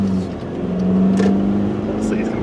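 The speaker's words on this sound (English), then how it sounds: "car coming. We gotta wait" A car drives past on a road, its engine and tyre hum rising and falling as it goes by at close range, a steady rumble over a gusty wind background, with no talking.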